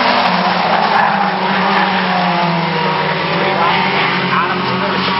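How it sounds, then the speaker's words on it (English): Race cars roar away together at the green flag of a heat race at Brighton Speedway, a loud, steady, dense engine drone with layered revving and tire noise, continuous throughout. "Green flag out here on heat race number 1 for the Bill Jones Comp Ford with 5 laps in"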